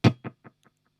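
Guitar note played through an MXR Carbon Copy analog delay with the mix set low at 9 o'clock, a sharp pluck followed by four quieter repeats fading steadily over about a second, alone with no talk.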